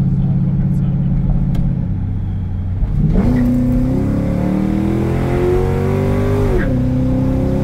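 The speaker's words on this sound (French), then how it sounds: "80 km/h quand il shift en deuxième" A Ford Crown Victoria ex-police car engine revs hard under acceleration, its pitch climbing, dropping at the shift into second gear at 80 km/h, then rising again, loud and close, with slight wheel spin.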